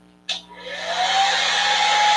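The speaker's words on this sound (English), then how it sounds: "You have this dryer on low. That way, that way it dries a little bit." A hair dryer running on its low setting to dry a painting switches on abruptly and settles into a steady, close whooshing blow with a faint motor whine, with no talking.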